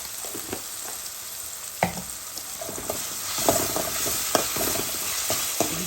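Garlic paste frying for a fish curry with turnip: a constant near sizzle in the pan with scattered stirring scrapes and clicks, no voices.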